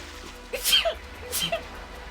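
A sharp, breathy sneeze bursts out, followed by a second softer burst, over faint background hum.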